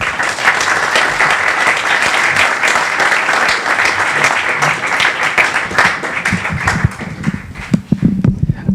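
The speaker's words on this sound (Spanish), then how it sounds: "de nuevo un fuerte aplauso para Javier" Loud, sustained applause from a conference audience after a talk on leadership, a dense wash of clapping that thins near the end into a few scattered, sharper claps.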